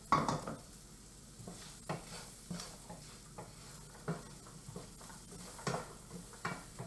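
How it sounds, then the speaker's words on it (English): Raw carrots sautéing in a little oil in a pan, with a soft steady sizzle and regular stirring scrapes and clinks that repeat about once a second. "we'll get our carrots in there so that they can start sauteing in the oil"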